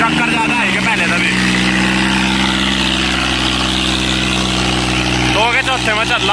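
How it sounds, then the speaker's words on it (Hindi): A Mahindra 265 tractor engine labours under heavy load while pulling a harrow through a field, a loud continuous drone with a rise in pitch near the end, close and dominant. "ट्रैक्टर हद से ज्यादा जान लगा रहा, 265 है ट्रैक्टर घनी जान लगा रहा।"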